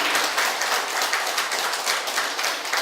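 A church congregation claps steadily in response during a combined worship service, producing dense, sustained applause at an even loudness throughout with no pause or speech.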